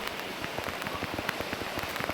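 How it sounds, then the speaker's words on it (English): Heavy rain pours down outdoors near a flooded low-water crossing in a park, a steady close patter of drops striking surfaces with no voices. "So, just a lot of rain."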